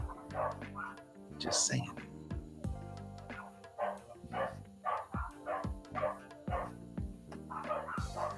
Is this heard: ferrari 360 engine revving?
no